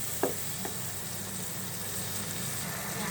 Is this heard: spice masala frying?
yes